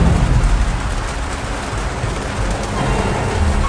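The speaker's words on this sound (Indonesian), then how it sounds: "Beberapa saat kemudian terdengar seperti gerimis datang. Namun suara itu lebih lembut, layaknya suara pasir yang ditebar di atas genteng." Soft, steady hiss of light drizzle falling on roof tiles, a dense gentle patter like scattered sand, continuous and fairly loud with no voices.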